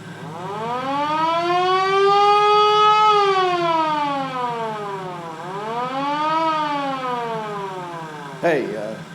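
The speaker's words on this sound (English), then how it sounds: "So why the siren?" A civil-defense-style siren wails loud and close, rising and falling in long sweeping cycles over several seconds, ending with a short sharp burst.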